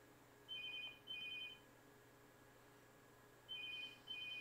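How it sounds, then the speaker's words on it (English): A telephone rings faintly in the background in two quick pairs of electronic trills, a long pause, then two more, with steady low room hum throughout. "Phone ringing."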